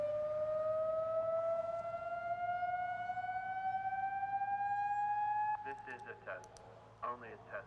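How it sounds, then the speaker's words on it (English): An outdoor neighborhood warning siren in Torrance sounds during a test, a long steady tone that rises slowly in pitch for several seconds, heard from a distance. It then cuts off and speech follows. "The Torrance Now sirens were tested earlier this month, providing another way to keep our city prepared in case of an emergency."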